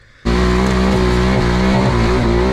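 Yamaha Banshee two-stroke ATV engines riding a dirt track, a loud, steady, buzzing engine roar that starts abruptly and holds close and continuous with slight pitch wavers.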